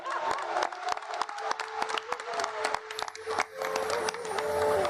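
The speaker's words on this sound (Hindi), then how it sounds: "तुम लोग जोरदार तालियां बजाओ।" Hall audience at a Hindi poetry talk on the nine planets, clapping loudly on cue; sharp scattered claps rise into a dense burst mixed with crowd noise and a few whoops, swelling louder toward the end.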